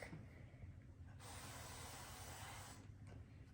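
Cooking spray hissing from a can onto a pan while making chickpea flour socca, a steady close spray lasting a couple of seconds over continuous background noise.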